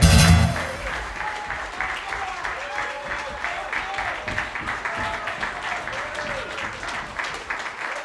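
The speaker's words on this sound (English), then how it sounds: "applause for coming out tonight." Concert audience applauds after the last song of a live show, a steady moderate patter of clapping with someone talking over it throughout after a brief louder opening burst.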